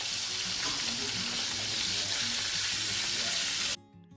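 Breaded chicken fried steaks sizzle loudly and steadily in hot oil in a pan, a dense continuous crackle that stops abruptly near the end.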